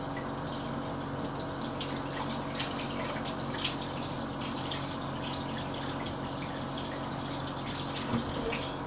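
Hot water runs steadily from a kitchen tap as a bottle lid is held under the stream, a continuous close splashing wash with occasional small drips and no talking.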